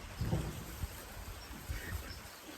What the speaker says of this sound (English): you can actually hear rain on the stock cropper roof